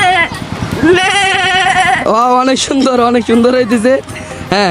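A boy mimics a goat's bleat with his voice, producing wavering, nasal 'meh' cries in short bursts close to the listener while an adult speaks praise over and between them.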